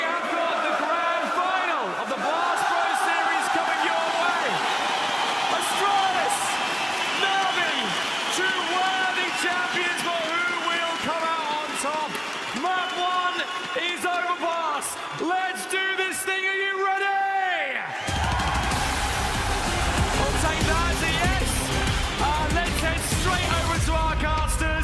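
A large esports arena crowd cheers and whoops at the Blast Pro Series grand final in Lisbon, a sustained roar under a caster's excited commentary, swelling louder near the end.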